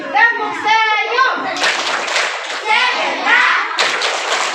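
Schoolchildren at a primary school Ramadan program clap a patterned 'smile clap' game, sharp rhythmic bursts of many hands alternating with a teacher's voice and the kids chanting along.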